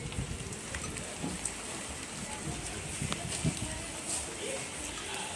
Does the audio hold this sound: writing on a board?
no